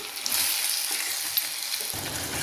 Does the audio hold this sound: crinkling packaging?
no